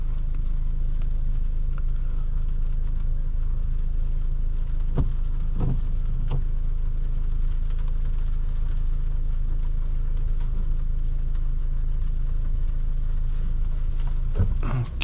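A 2024 Audi A3 Komfort 40 TFSI cruises along a road, giving a steady broadband rumble of tyres and road noise with a low engine hum and occasional faint thumps, heard from inside the cabin.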